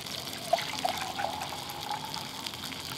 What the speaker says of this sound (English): And some water for the gravy.